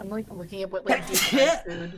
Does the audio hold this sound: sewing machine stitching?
no